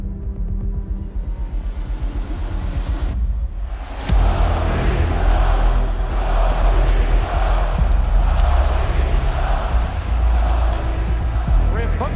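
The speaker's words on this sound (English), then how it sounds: "Rambunctious crowd on a Saturday night" Rambunctious hockey arena crowd on a Saturday night during a Bruins–Maple Leafs playoff game, a dense, loud roar of many voices that swells and holds steady after a brief dip, with chanting and shouts mixed in.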